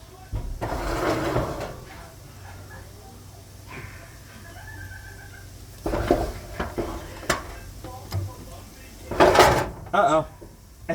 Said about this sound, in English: Take the drawer out.